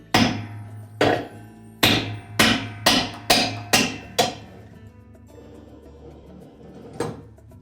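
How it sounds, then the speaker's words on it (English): Eight sharp metallic blows of a heavy hammer on a spanner wrench loosening a Whirlpool washer hub nut ring out, the later ones in quick succession, followed by a pause and one final strike. "Then using a fairly heavy hammer, we're just going to loosen that."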